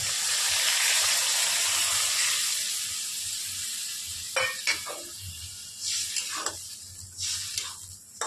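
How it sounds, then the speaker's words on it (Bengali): Milk poured into a pan of sautéed parwal meets the hot pan with a loud hiss that fades, followed by a few scattered stirring scrapes and bubbling spurts. "এবার আমি দুধটা দিয়ে দিচ্ছি।"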